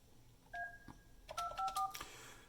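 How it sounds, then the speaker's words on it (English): Keypad tones from a Yealink T54W desk phone taken off hook to place a call: a single beep, then a quick run of several short dual-tone presses, clear and close against a quiet office background. "if you go off hook and you start to make a call like this"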